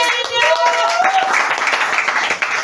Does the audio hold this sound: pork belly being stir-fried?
no